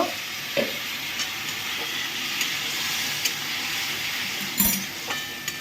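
Spices with turmeric being sautéed in a pan for a Bengali fish-head and potato dish, giving a steady broadband sizzle with occasional soft scrapes and clicks of a spoon.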